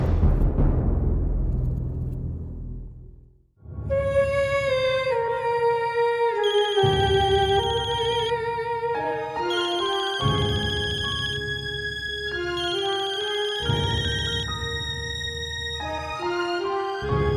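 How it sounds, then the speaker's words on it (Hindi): An electronic phone ringtone plays a repeating melodic pattern in loud bursts separated by brief gaps, with no voices. "कहिए मेघना जी, कैसे फोन किया?"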